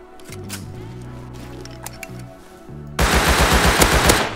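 Gunfire in the survival video game Rust, a fast rapid-fire burst of loud, close shots that suddenly erupts after a quieter stretch of game sound and keeps going to the end.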